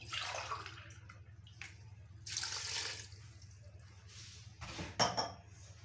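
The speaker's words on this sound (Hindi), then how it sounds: "2 गिलास हमने पानी डाल लेने हैं इसमें।" Water is poured into a pot for a beef and okra (bhindi gosht) dish in a home kitchen, giving a few faint splashing bursts amid light clinks of cookware.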